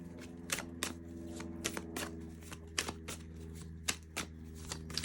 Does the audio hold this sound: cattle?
no